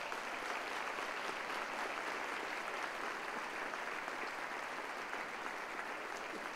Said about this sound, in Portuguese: talvez você até pudesse dar um aplauso para Jesus por isso